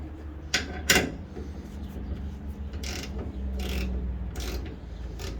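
Metal ratcheting clicks and short mechanical clatters from a wrench working loose stainless roof rack bolts on a Jeep Comanche, with a few sharp knocks near the start over steady low background hum.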